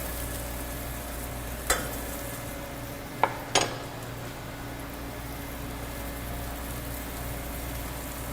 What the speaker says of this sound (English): next I'm going to add the garlic. And let that cook up with just a bit.